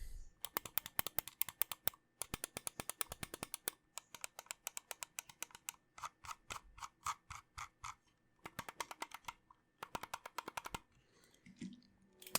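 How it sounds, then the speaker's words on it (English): Buttons on a Delux M800 wireless gaming mouse are clicked up close in rapid bursts of crisp, stiff clicks separated by short pauses, with no talking. "They're super clicky and quite stiff."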